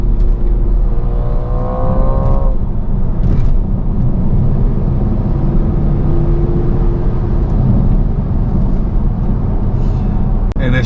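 BMW X6 40d diesel running in Sport mode, a loud continuous close engine drone with a brief rising rev early on, steady throughout with no talk.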